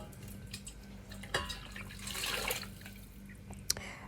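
Hot water is poured into a pan to make vegetable stock for a 1940s-style parsnip soup, heard as a quiet, brief splashing swell with a few faint drips in a still kitchen.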